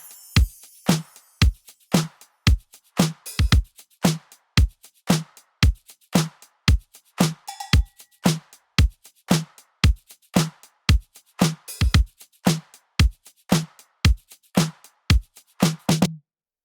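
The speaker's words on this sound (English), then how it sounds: "Now the full drum pattern sounds like this" A full programmed drum pattern for a funky summer dance track thumps in a steady loop, with kick, snare and hi-hats layered with shaker and other percussion, plus chimes accenting the first beat of the bar.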